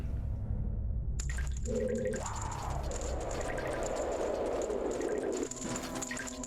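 Water draining in The Legend of Zelda: Majora's Mask, a rushing, gurgling flow that builds after a chime, runs for several seconds and then tails off under a steady game drone.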